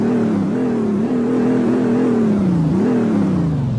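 A 2002 Chevrolet Silverado GMT800 5.3 V8 is revved loud and close, its droning engine note rising and falling in a few swells with no voices over it.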